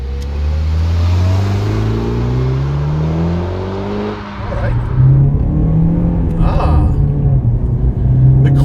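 A modified 2010 Mitsubishi Lancer Evolution X GSR driving: a close, loud engine rumble that climbs in pitch as it accelerates, drops briefly at a shift, then pulls and revs again.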